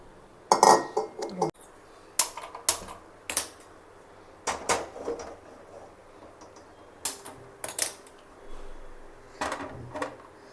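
Heavy cast iron pan and paniyaram pan set down on a stove after washing, giving a series of sharp metallic clanks and knocks at close range, spaced irregularly with quiet gaps between.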